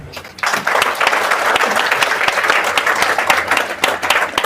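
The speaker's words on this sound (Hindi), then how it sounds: "ताली बजा दीजिए।" Audience applause at a business motivational talk: loud, dense clapping from a crowd that starts abruptly and holds steady throughout, close and continuous.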